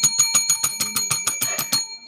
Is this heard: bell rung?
yes